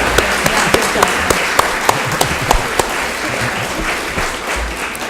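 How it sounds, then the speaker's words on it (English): A crowd claps for the candidates at a Rotary Club school board candidate forum, with steady, dense applause and a few sharp individual claps standing out, holding full and loud for about five seconds. "Please join me in a round of applause for today's candidates."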